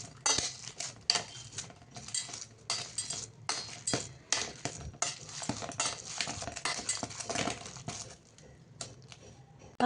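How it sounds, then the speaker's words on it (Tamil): Leftover cooked rice is mashed in a bowl, giving quiet, rhythmic scraping, squishing and light clinks of a utensil against the bowl that continue steadily throughout. "சாதத்தை நல்லா இந்த அளவுக்கு மசிச்சு எடுத்துக்கலாம்."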